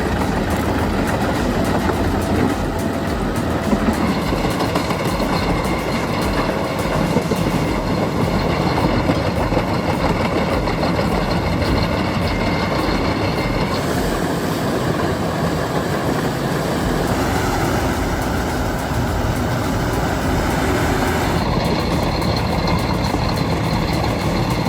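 A Bracke T45 wood chipper and tree shredder runs steadily at a forestry work site, a loud, continuous diesel drone and grinding roar that holds the whole time with no breaks and no talk.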